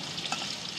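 Fish fries in oil in a pan with a steady, close sizzle and crackle, continuous and alone for a brief moment.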